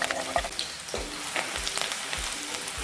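Onions and green chillies sizzle in hot oil in a pan while cooking Madurai-style kuska biryani, with steady close frying crackle and a few soft stirring scrapes and knocks, no voices.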